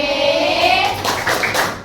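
Elementary school children in a Palembang classroom chanting and clapping hands together in a clap chant, close and loud, with voices carrying over the rhythmic claps.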